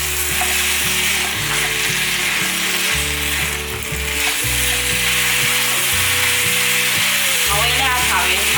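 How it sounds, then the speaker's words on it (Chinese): Hakka taro dumplings are stir-fried with five-spice powder, pepper, rose salt and sesame oil, giving a continuous sizzle and scraping stir under loud steady tonal background music, with no talking. "把调味料炒匀"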